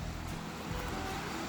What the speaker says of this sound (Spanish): Acá está el río Las Trancas.